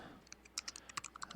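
Quiet keystrokes tapped on a computer keyboard in a home studio, a dozen or so irregular clicks in short bursts, close but faint, with no talking.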